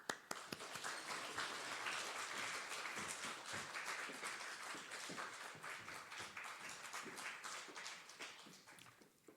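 A church congregation gives a big, sustained round of applause to welcome the pastor at an early-morning prayer service, dense clapping filling the room before gradually thinning out near the end.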